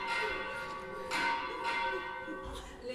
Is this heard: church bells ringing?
yes